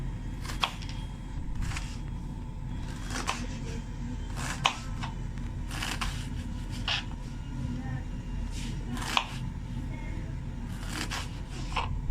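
Ginger is chopped finely with a knife on a board, a steady series of crisp taps repeating roughly every half second over a low background rumble.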